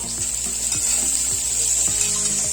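Sliced onions fry in a pan for a spicy mutton karichaaru, giving a close, even sizzle with rhythmic scraping strokes as they are stirred every half second or so.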